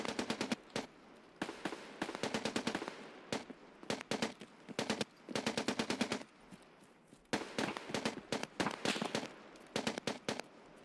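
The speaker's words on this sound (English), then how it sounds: "They are shooting quite a lot." Distant automatic gunfire in SPT Tarkov, near the fortress: repeated rapid bursts of shots, some long and some short, echoing faintly with brief gaps between volleys.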